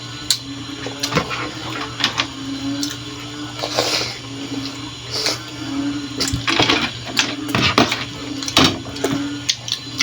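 Water running and splashing near a hand-filled mixing job, an irregular stream of sloshes and drips over a steady low hum, close and fairly loud with no talk.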